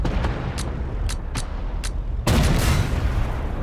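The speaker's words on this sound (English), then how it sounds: "where's that firing coming from? It's coming from behind me" Gunfire rings out from behind the player in the video game Prometheus: a run of sharp, spaced shots, then a sustained louder burst of rattling fire, mixed with battle ambience and no talk.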